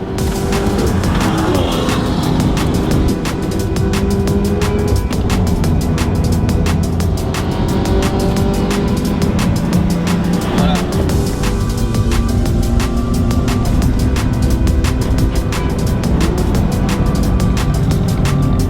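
A car laps the Nürburgring circuit, its engine roaring loudly and continuously from close by. Pitch sweeps rise and fall as it accelerates and shifts, with no talking over it.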